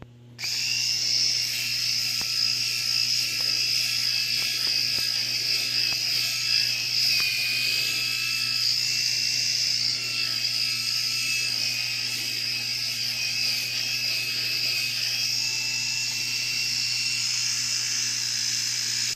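A Kurener KR 1250 electric razor shaves close to the microphone with a loud, steady high buzz, and its pitch dips and wavers slightly as it bogs down through thick hair, with no talking.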